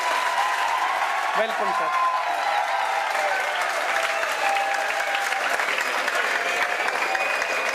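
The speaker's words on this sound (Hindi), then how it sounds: "जोरदार तालियों से इनका स्वागत करें" A crowd at a political gathering applauds to welcome a visiting legislator, with loud, continuous clapping throughout and a brief spoken greeting near the start.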